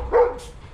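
A single short dog bark on a farm, close and moderately loud, with a faint background hiss after it.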